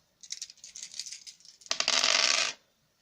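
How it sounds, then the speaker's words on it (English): Five plastic dice for a fantasy tabletop wargame rattle in a hand and then tumble onto a hard surface. A brief shake is followed by a louder, dense clatter up close, and there is no talk. "I'll roll 5 dice twice"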